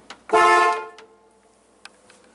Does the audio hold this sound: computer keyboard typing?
no